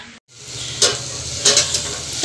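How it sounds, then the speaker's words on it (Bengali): Potatoes fry in a pan with green chillies, giving a steady close hiss and sizzle, with brief louder bursts of crackle as they are stirred, no talk. "এদিকে আলু ভাজা বসিয়ে দিয়েছি"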